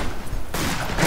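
Gunfire in the Western shooter game Fistful of Frags, a dense, loud volley of overlapping shots that cuts off sharply midway and then resumes in a fresh burst.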